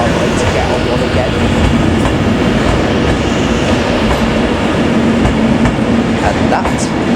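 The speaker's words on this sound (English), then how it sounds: "Beautiful trains these are." Train at Glasgow Central station rumbling loudly and continuously close by, with a steady roar, clacking wheels and occasional faint squeals, likely with some talk in the background.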